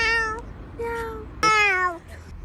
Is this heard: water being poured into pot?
no